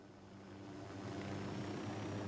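Helicopter in the video game Ghost Recon Wildlands, a faint, steady engine drone with a low rotor hum that gradually grows slightly louder, no talk.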